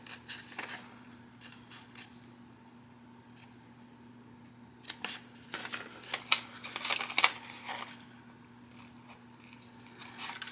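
Scissors cut out a fabric bag pattern, giving close, irregular snips and crisp crinkles that come in scattered bursts, busiest toward the middle, over a faint steady hum.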